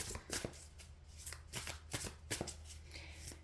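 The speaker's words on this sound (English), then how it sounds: "I'm just going to shuffle off camera here a minute." A deck of tarot cards is shuffled close by, giving repeated crisp riffling bursts at a steady rhythm, fairly quiet and without any talk over it.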